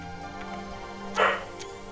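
A single dog bark rings out at moderate distance, short and sharp against a quiet background.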